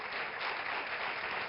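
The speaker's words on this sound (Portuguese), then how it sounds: "Está feito um forte aplauso para os nossos doutores." A studio audience applauds doctors on a Portuguese television show, a dense, steady burst of clapping heard alone at even loudness for its short length.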